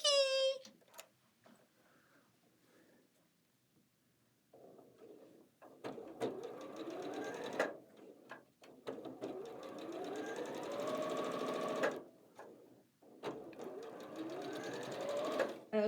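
A sewing machine stitches diagonal quilt seams in bursts of rapid, close, whirring needle runs broken by short pauses, with a brief high chirping tone at the start.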